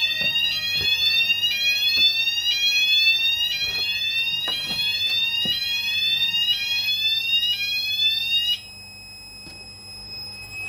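A Notifier/Hochiki ESP fire alarm system sounds during a weekly test with a loud, repeating rising electronic sweep and occasional clicks, then cuts off, leaving only a faint steady tone.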